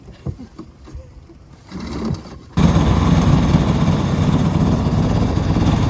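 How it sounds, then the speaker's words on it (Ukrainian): Quiet background with faint knocks, then a hovercraft motor, started by hand, catches abruptly and roars steadily at a loud, constant pitch, close by. "Мотор заводить вручну."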